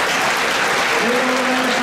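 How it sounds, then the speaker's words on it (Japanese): Loud, dense applause from the crowd at the Victoria Mile horse race award ceremony for the racehorse Sodashi, continuous and close, with a voice starting to speak over it partway through. "もう一度盛大な拍手をお願いいたします。"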